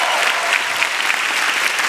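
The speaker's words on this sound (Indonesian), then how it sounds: "tepuk tangan dulu dong." Audience applause at a stand-up comedy grand final show, a dense, steady wash of clapping from a large crowd, loud and continuous with no speech on top.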